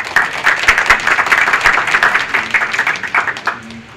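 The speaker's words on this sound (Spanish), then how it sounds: "Un aplauso, por favor" Audience applause closes a medical lecture on ovulation induction drugs, a steady burst of many hands clapping at close range for about four seconds before it tapers off.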